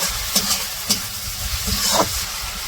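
Onions frying in a pan in a village kitchen, a steady close sizzle with a few sharp stirring clatters scattered through it, heard alone without talk.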